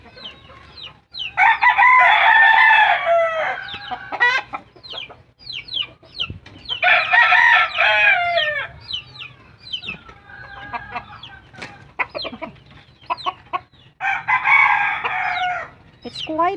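Chickens in a simple Filipino backyard crow in three long, loud calls, with clucking and chatter in between, nearby and outdoors, with little talk.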